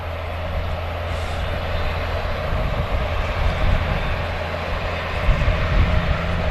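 An Emirates Airbus A380 airliner taxis at Manchester Airport, its engines a steady, continuous low drone with a faint high whine, even and unbroken at moderate distance.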